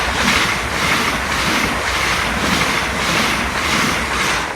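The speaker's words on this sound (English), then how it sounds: "Here comes train 1 out of a possible 7." Greater Anglia passenger train passing a level crossing at Brimsdown station in Hertfordshire, a loud steady rushing roar with a faint rhythmic pulsing throughout, close by and heard alone.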